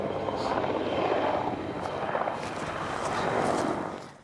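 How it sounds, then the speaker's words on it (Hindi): A helicopter passes close overhead, its thudding rotor and engine roar steady and loud before fading away at the end, with no talk over it. "मैंने पहले भी हेलीकॉप्टर को उड़ते हुए इतने करीब से देखा है"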